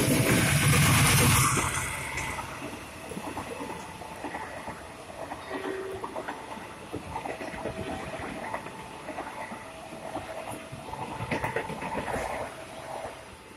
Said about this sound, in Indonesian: KA 3 melintas di stasiun Rombo JPL 81.